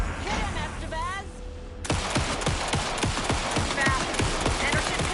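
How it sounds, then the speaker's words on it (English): Rapid bursts of video game gunfire crackle in a dense, continuous volley, following a brief stretch of speech at the start. "Anderson, pin him down with gunfire for me to get the light on him."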